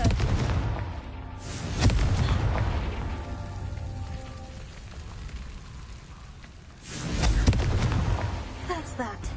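Confringo spell blasts in the Hogwarts Legacy video game, with two broadband booming bursts near the start and again around seven seconds, rumbling over a crackling rain-like background with a voice speaking.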